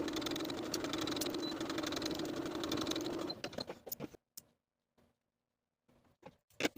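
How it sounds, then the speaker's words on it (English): A sewing machine stitches darts on a Kwik Sew 4162 cardigan jacket. It runs at a steady, buzzing whir for about three and a half seconds, then stops, followed by a few scattered clicks and handling noises. "Then we'll take the darts to the sewing machine and sew from the outer edge to the point"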